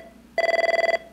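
A telephone rings once, a short, loud burst of rapid electronic trilling that stops after about half a second, with no talking.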